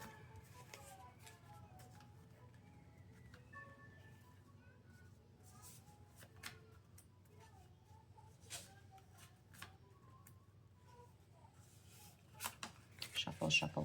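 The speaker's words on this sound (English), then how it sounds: "Shuffle, shuffle, shuffle, so they're good to go for next time." A pile of cardboard game cards is shuffled by hand at a table, soft riffling and flicking in quiet bursts, close and faint, ending in a louder flurry of snapping cards.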